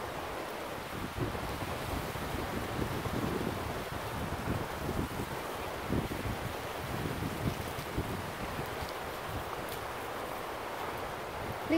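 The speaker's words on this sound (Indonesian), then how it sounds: "Anginnya besar sekali." Strong wind blows by the sea, a constant rushing noise with gusts and microphone buffeting, and surf washes faintly underneath.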